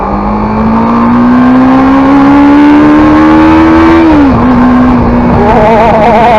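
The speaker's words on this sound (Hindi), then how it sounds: "smooth whistle of the engine" A CF Moto 650 adventure motorcycle engine holds a loud, smooth whining drone that climbs slowly in pitch, dips briefly as the throttle eases, then settles back at a steady hum, close and continuous with no voices.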